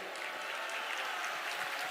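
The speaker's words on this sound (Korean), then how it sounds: "박수 한번 크게 치세요" Applause from an audience at a political rally, a steady wash of hand claps held at moderate level for the full two seconds with no clear voices on top.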